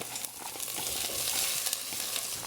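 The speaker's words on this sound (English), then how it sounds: "And I'm going to add our lentils. So these have just been rinsed, my red lentils." Rinsed red lentils dropped into hot oil with cumin seeds in an Instant Pot, giving a steady, close hiss and crackle of frying with faint stirring scrapes.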